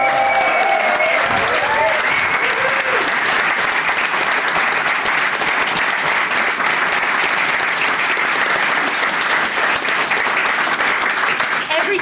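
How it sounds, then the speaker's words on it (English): Sustained, loud audience applause from a live comedy show crowd, dense continuous clapping with some cheering for the crew, cast, writers and guests, running steadily throughout. "can we please have a huge round of applause for all of the crew, the cast, the writers, and all of our wonderful guests for the season"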